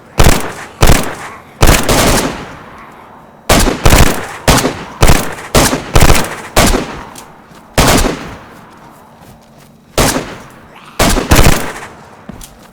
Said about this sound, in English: I'm shooting a fucking mummy.